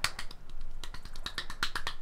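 Quiet finger snapping stands in for applause, a steady run of crisp, close snaps repeating roughly every fifth of a second with no talking.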